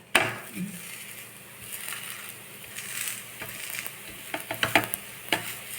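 A rice flour akki roti sizzles on a hot pan with a steady close hiss, then a burst of spatula scrapes and clicks as it is lifted and flipped near the end.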